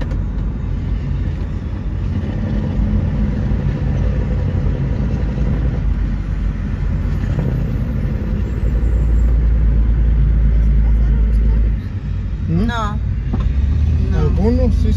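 Steady road traffic on a night drive back from Cuautla, Morelos, including trailers: a continuous low engine rumble and road noise heard from inside a vehicle, with people talking over it and a brief horn-like tone near the end.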